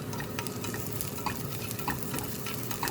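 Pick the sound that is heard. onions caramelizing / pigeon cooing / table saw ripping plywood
onions caramelizing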